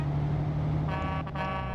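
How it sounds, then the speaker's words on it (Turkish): Original MAN truck horn in Euro Truck Simulator 2, a short harmonic horn blast sounding loudly for about a second over a steady engine drone, with a brief break partway through. "Bu arada Man'ın orijinal kornası."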